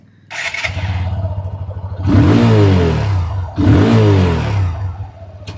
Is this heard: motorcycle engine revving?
yes